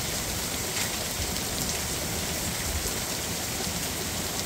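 Torrential thunderstorm rain pours down in Van Nuys, California, as a constant, close, roaring hiss. It stays even throughout, with no talking.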